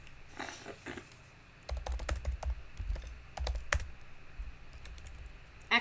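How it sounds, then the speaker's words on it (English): A computer keyboard being typed on, a quiet, close series of short clicks in uneven bursts after a brief lull, with no talking. "I didn't want to say it, so I'm typing it."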